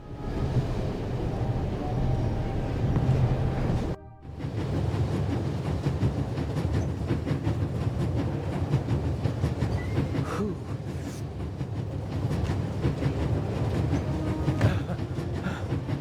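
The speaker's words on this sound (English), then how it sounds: "There's nothing quite like traveling on a train." Train rolling along rails in the video game The Raven Remastered: a continuous loud rumble with clickety-clack rhythm, briefly cutting out for a moment before resuming steadily with no voices.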